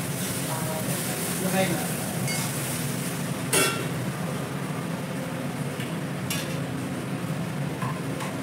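Okra frying in a pan and being stirred, with a steady sizzle and scraping under a continuous low background hum, plus a few brief utensil knocks.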